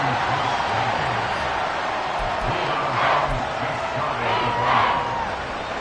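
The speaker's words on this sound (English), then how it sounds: "This crowd doing all they can." Football stadium crowd roaring and cheering steadily throughout, a dense wall of noise with a couple of louder surges, no clear speech on top.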